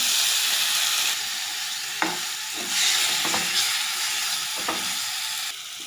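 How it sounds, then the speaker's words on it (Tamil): Fennel powder and ginger-garlic paste fry in hot oil in a pan for egg gravy: a loud, steady sizzle with a few scraping stirs throughout, and no talking. "சோம்பு தூள் கொஞ்சம் போட்டுக்கலாம் இஞ்சி பூண்டு விழுது போட்டுக்கலாம்"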